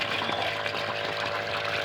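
A DC 12 V water pump draws water from a 250-foot-deep source, giving a steady, dense watery rush with a constant hum, close and even throughout with no break.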